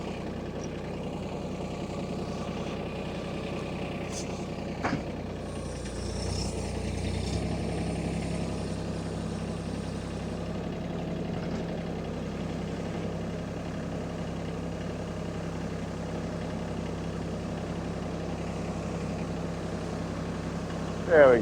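A Mahindra tractor clears snow with a cheap plastic lumber cutting edge, its engine droning steadily and loudly while a low, continuous scraping runs beneath it.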